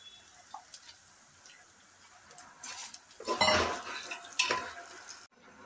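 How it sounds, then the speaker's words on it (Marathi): Rice grains being roasted and stirred in oil with cumin seeds for jeera rice, giving a soft sizzle with scraping and clinking of a spoon against the pan, louder in the second half. "आता हा तांदूळ ह्याच्यात ओतायचा आहे आणि चांगला भाजून घ्यायचा आहे"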